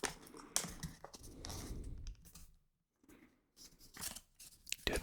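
Sheets of paper folded into an origami crane give close, crisp crinkles and creasing rustles in bursts, with a brief quiet gap before more handling, and no talking.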